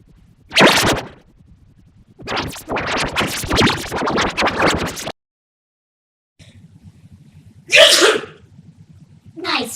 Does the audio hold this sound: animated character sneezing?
yes